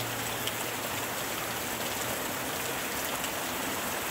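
Steady rain falls in a dense, even hiss with scattered drops pattering, constant and moderately loud throughout with no voices.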